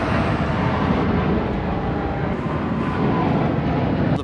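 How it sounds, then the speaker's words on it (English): Jet engine roar from a plane passing overhead, a loud, broad rushing rumble that holds steady throughout without speech. "The planes come by every 2 minutes"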